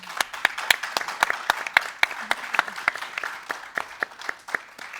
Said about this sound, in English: I want to give another round of applause to our amazing panelists